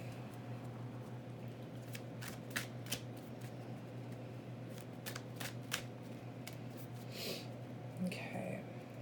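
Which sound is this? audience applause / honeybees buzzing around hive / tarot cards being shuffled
tarot cards being shuffled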